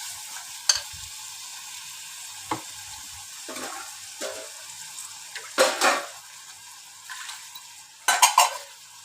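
Crushed onions frying in a pan for a fish curry, a quiet sizzle under repeated scrapes and clatters of a spoon stirring against the pan, louder in short bursts.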